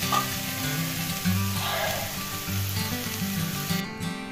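Rice and vegetables frying together in a pan, a continuous close sizzle with a low droning hum running underneath throughout.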